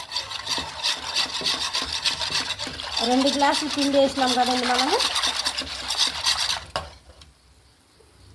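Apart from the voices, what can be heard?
mixing flour batter by hand without lumps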